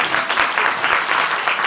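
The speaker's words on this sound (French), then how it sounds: "Vous pouvez l'applaudir" Audience clapping for Ramzi at the Spread 2020 stand-up show, a steady dense patter of many hands throughout the short stretch, fairly loud with no voices on top.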